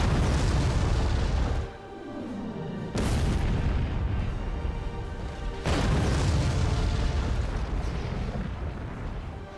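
A nuke strikes from orbit in the strategy game Forts, giving loud, booming blasts that roar in heavy waves, briefly drop away, then surge back into a second long rumbling detonation.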